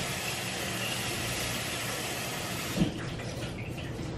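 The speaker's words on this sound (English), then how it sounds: "washing my kale, because you should always wash everything you consume, your veggies" Tap water runs steadily into a sink as kale is washed under it, a close, even rush that eases off slightly near the end after a brief bump.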